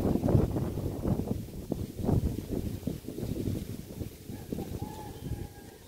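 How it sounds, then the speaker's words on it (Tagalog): Strong wind buffets a microphone outdoors in open farmland near Valenzuela, a steady rough rumble with gusty swells throughout, no voices. "lakas ng hangin"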